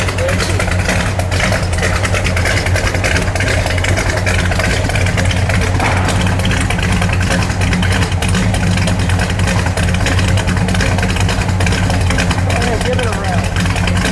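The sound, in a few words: 1973 Buick Century Gran Sport 455 engine idling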